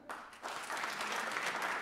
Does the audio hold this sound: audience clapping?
yes